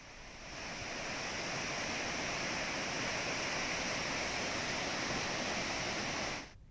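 Heavy water rushes from Narayanpur dam into the Krishna river through 22 open gates, releasing 99,225 cusecs, a loud and steady broadband roar that fades in and then cuts off abruptly near the end.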